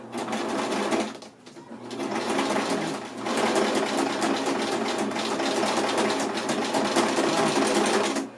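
Sewing machine running steadily as it stitches a seam on a creative sewing project, a dense continuous whir with a brief pause near the start and another around three seconds, close and loud with no talk.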